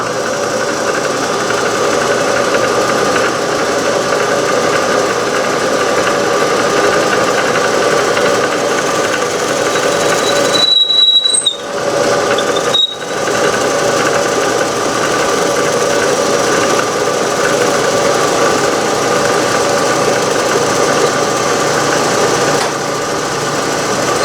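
A belt-driven drill press runs loudly and steadily while a Forstner bit works into aluminum, a constant mechanical hum with a couple of brief dips and a short squeal partway through, and no talking.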